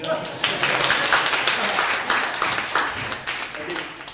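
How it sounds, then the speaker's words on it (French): Applause from a seminar audience at an academic colloquium, a full burst of many hands clapping continuously at even loudness, with a few sharper individual claps standing out near the microphone. "Là, c'est le temps d'applaudir."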